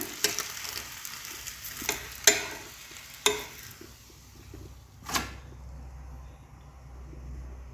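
Thin rice-batter neer dosa cooks on a hot pan, giving a soft, steady sizzle broken by several sharp clinks and scrapes of a utensil against the pan, close and with no talk.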